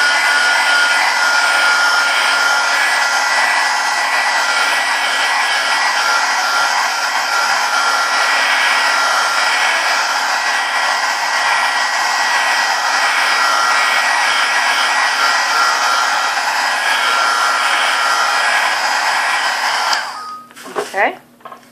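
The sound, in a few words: heat gun drying Mod Podge on canvas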